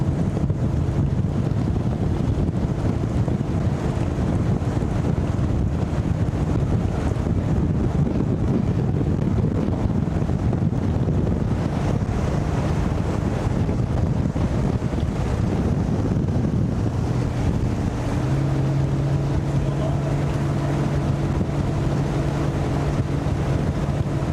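A boat's engine hums steadily as it drives across flooded Canyon Lake. Heavy wind and water rush sound close throughout, and a low tone shifts near the end.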